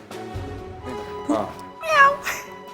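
A man on a Malayalam comedy show imitates a cat, giving a few drawn-out meows of rising and falling pitch, close and fairly loud, with a short burst of speech before them.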